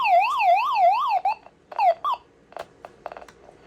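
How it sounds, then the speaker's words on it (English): Small battery emergency flashlight with built-in FM radio sounding its siren, a loud close electronic wail rising and falling quickly for about a second, then cut off in short bursts followed by clicks and handling noise. "There's a siren."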